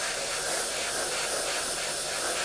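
Vallejo Metal Color acrylic paint sprayed through an airbrush, a continuous close, even hiss with no pause or speech.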